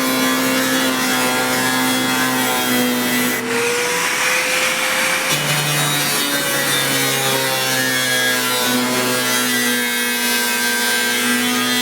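A cutting machine slicing through electrical service cable for a three-phase 40 hp service hookup gives a steady, loud grinding whine that runs without a break for the whole stretch, with tonal harmonics shifting slightly as the blade bites.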